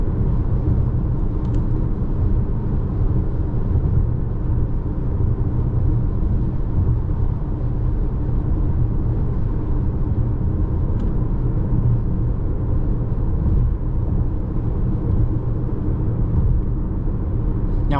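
Cabin of a 2024 Volkswagen Tiguan S with front-wheel drive on the move, a steady low road and engine rumble with even tyre hum throughout and no marked changes.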